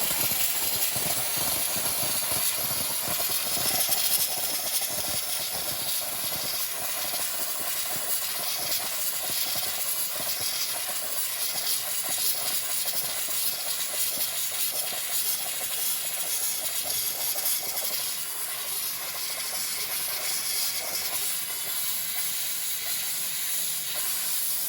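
A handheld pressurized steam cleaner blasts a very dirty rock freshly dug from the ground, giving a loud, steady, close hiss that runs unbroken throughout with no talking.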